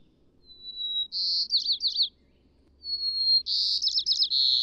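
A songbird sings two clear, close phrases, each a thin rising whistle that breaks into rapid twittering trills, separated by a short silence with only faint low background rumble.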